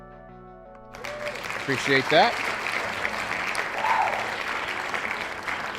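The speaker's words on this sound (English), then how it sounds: "Let's get a round of applause for Ronnie on this big dono here." Applause sound effect played on a baseball fan livestream, a burst of clapping rising after a second and continuing steadily at moderate volume, with someone speaking briefly over it.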